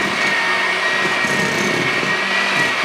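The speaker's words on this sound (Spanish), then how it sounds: "Vamos a pasarlo por la batidora." A loud, steady electric mixer whirs continuously at constant speed, blending chocolate cake batter close by with no talking.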